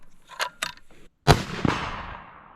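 Rifle fitted with an Athlon Cronus BTR 4.5x29 scope fired at a bolt target outdoors, a couple of soft clicks of handling followed by one sharp, close shot whose echo trails off over about a second.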